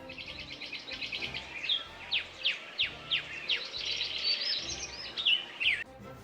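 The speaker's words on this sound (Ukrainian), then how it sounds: "спів птахів навесні." A bird sings clearly nearby in spring, a string of bright chirps and quick downward whistles ending in a rapid trill, with no other sounds.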